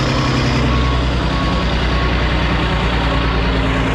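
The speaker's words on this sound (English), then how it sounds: "That truck sounds good." A pickup truck at a garage demolition job site idles steadily, a loud, close, continuous engine rumble with no pauses and no talk over it.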